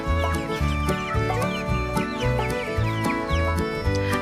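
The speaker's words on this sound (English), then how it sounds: "This sweet girl right here is one of the new hens we just picked up about a week or 2 ago" Backyard hens cluck in a busy, repeated chorus close by, with sharp overlapping calls and no talking.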